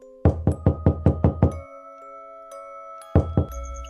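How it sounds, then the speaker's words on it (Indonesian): Knocking on a house door at night: a quick run of seven sharp, loud raps, a pause with a faint sustained tone, then three more knocks close by. "ada yang mengetuk pintu rumahku."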